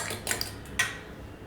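Egg mixture with a small pinch of salt and freshly cut coriander leaves is beaten in a bowl for an omelette, giving a few light utensil clinks and taps against the bowl, close and fairly quiet.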